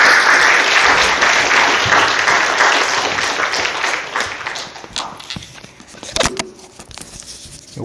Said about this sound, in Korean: 여러분들 큰 박수로 우리 환영해 주시면 감사하겠습니다